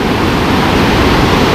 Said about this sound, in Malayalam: നമ്മളിപ്പോൾ ആ വെള്ളച്ചാട്ടത്തിൻ്റെ മുകളിലാണ്.